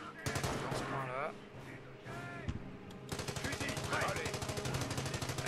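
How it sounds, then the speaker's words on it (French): Heavy machine gun in the war strategy game Company of Heroes firing long, rapid bursts of closely spaced shots, loud and near, mixed with game voices and other battle noise. "Ah, la mitrailleuse lourde fait son job"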